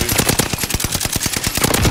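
Rapid automatic gunfire from a Fortnite match, a dense string of sharp shots at an even, quick rhythm, loud and close throughout with no talk.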